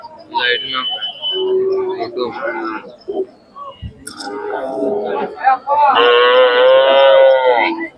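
Khillar cattle moo at a cattle market in Sangola, Maharashtra, with loud, close, drawn-out moos mixed with people talking nearby.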